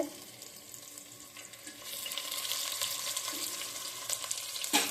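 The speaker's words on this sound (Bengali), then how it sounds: "আলুটা আমি ভেজে নিই" Potatoes frying in hot oil for biryani, a steady close sizzle that swells louder partway through and keeps crackling alone to the end.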